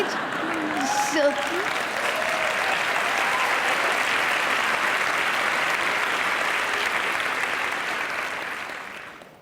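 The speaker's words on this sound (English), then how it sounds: "She says you were clapping." An audience claps steadily and loudly for about nine seconds, a dense, even wash of applause from a crowd that fades out at the end.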